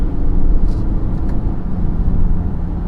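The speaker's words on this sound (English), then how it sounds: "You can sort of hear the turbo get going after a little bit" A 2018 BMW X3 30i turbo engine drones steadily with a deep, constant low rumble in 4th gear, building slightly as it pulls and the turbo spools, heard from inside the cabin with no talking.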